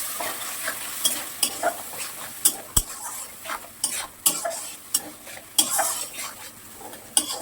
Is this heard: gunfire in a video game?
no